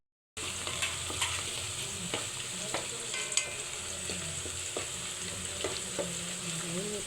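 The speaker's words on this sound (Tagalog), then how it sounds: "malapit na po siyang mag-caramelize ng ating onions" Chopped onions fry and caramelize in a pan for chicken biryani, giving a steady close sizzle with occasional soft stirring scrapes and clicks throughout, and no talking.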